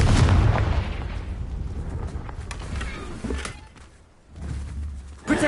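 A Confringo fire spell blasts in Hogwarts Legacy, a loud, booming explosion that opens with a heavy low burst, rumbles on, dips briefly and then swells again with a second blast near the end.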